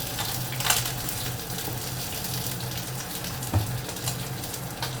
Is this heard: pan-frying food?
yes